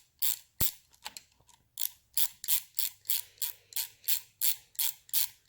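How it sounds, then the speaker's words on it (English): Ratchet wrench removing the nuts from the back of a Harley Davidson Model 61 two-brush generator, with steady repeated bursts of clicking strokes, close and clear, about a dozen in a row with short pauses between. "First off, we're going to take the nuts off the back here."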